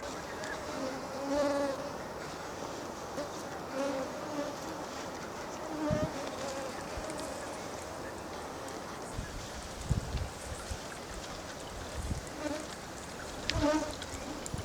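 Swarming mosquitoes and gnats in the Siberian tundra during the early summer peak. A dense, steady whine and buzz carries on under light wind, with a few soft thumps and faint handling noises.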